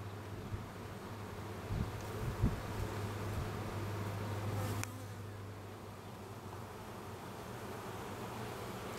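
A low, constant hum of many honeybees buzzing close by in a hive with a drone-laying queen, buzzing abnormally, with a few soft knocks and rustles, no voices.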